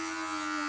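Electric hair clippers hum steadily and loudly throughout a home haircut, a constant close buzz with no talking.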